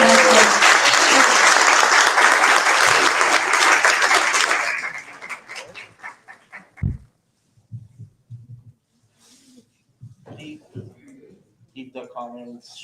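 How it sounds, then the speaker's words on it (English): An audience at a youth leadership conference's closing plenary session applauds in solidarity, dense clapping that fills the hall for a few seconds, then fades into scattered claps and a speaker's voice. "help us with applauses and just in solidarity for these victims"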